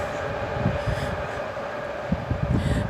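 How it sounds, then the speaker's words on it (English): A BART commuter train rumbles past nearby, loud and steady, with rhythmic wheel thumps and a constant metallic hum throughout. "It's a BART train."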